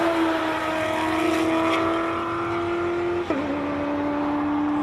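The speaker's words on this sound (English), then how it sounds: "So these are these rally raid cars. They're built for rally raid in South Africa, also for Dakar." Rally raid cars built for South African rally raid and the Dakar run at the Simola Hillclimb, a steady loud engine drone holding a high note, dipping sharply with a gear change near the end before pulling on.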